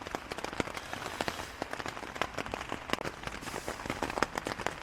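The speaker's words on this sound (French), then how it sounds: "Ce matin il pleut, il n'arrête pas de pleuvoir." Steady rain patters on a tent while camping on a cycling stage toward the Col du Tourmalet, a dense, close drumming of many sharp drops in irregular rhythm, continuous and fairly loud, with no voices.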